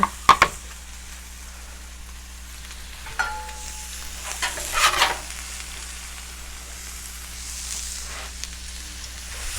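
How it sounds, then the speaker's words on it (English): Smashburger patties fry on a griddle with a steady, even sizzle throughout, joined by a few scraping clanks of a metal spatula. "when we're cooking your burgers, you'll need it for about a minute to a minute and a half on each side"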